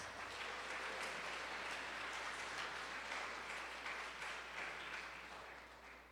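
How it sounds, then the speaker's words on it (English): Steady applause from a sizable audience at a junior/senior high school spring concert, continuous dense clapping that slowly fades toward the end. "Give them a round of applause"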